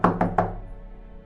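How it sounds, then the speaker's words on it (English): Three sharp knocks on a window, close and evenly spaced, each ringing briefly before fading into quiet. "Later that night, I heard a knock on my window."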